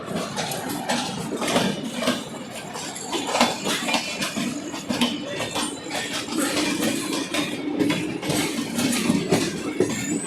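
A train passes through Kovvur railway station in India, its steady rumble and clickety-clack of wheels on rail joints loud and close, with faint metallic clinks throughout and no talk.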